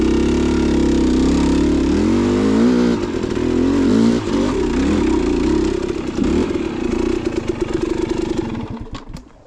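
Dirt bike engine revs hard climbing a trail ramp, a loud near buzz that rises and wavers in pitch, then drops off toward the end.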